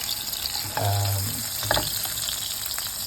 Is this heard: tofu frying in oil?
yes